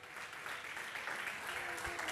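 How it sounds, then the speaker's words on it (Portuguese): A congregation at a night vigil service claps together in a faint, continuous round of applause, heard from some distance with a slightly murmuring crowd behind it. "Você pode dar uma salva de palmas a esse Deus todo poderoso aí?"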